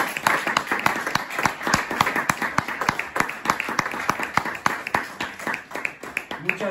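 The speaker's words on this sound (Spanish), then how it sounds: "que se os dé un aplauso" An audience at a Day of the Book event, children among them, claps in a steady, rhythmic beat, with sharp regular hand-claps continuing for several seconds at moderate loudness.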